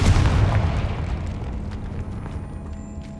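A Confringo spell explosion in the Hogwarts Legacy video game, one loud deep boom at the start that rolls off into a long rumbling decay, no speech over it.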